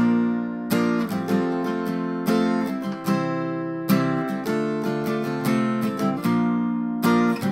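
Steady acoustic guitar strumming with bright chords, played in repeated rhythmic down-up patterns at a moderate pace, close and clear with no voices.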